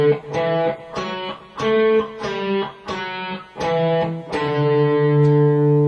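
A Bach run on guitar rises and then falls through distinct plucked notes in groupings of three and four, ending on a long sustained note. The tone is clear and close, with no talking.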